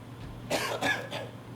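A few dry coughs in quick succession, close and fairly quiet, against a faint steady hum.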